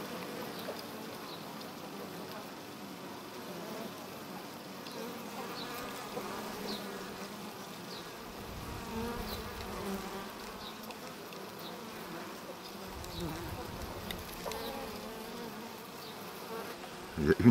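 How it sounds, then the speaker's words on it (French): A steady, close buzzing of honeybees swarming over a European hornet continues throughout at low to moderate level, with soft rustling at a hive. "Il y a une abeille qui tient tout le paquet."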